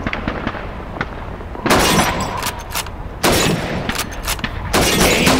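Rifle shots ring out on a Red Army training shooting range in Call of Duty 2, with loud sharp cracks and shattering glass and crockery as bottles and plates are hit, several dense bursts close by.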